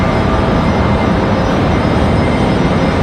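An airliner departs from a Raleigh-Durham airport runway, its jet engines producing a loud, dense, continuous broadband roar that holds steady throughout, heard alone without voices.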